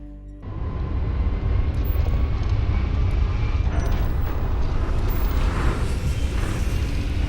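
Standard spaceship engines in the game Starfield, a steady, loud, broad roar that starts abruptly and then holds constant, with no voices over it.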